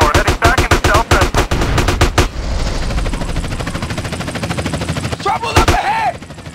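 Rapid bursts of gunfire ring out during a GTA San Andreas street shootout, loud close volleys in quick succession at first, then a sustained rattling din with another short burst near the end.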